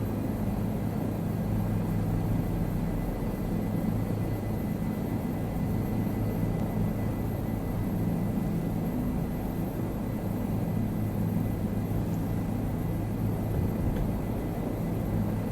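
Helicopter flying over Easter Island near a hotel lodge and a long airport runway, heard as a steady, loud low rumble of engine and rotor noise that holds without a break throughout, with no talk.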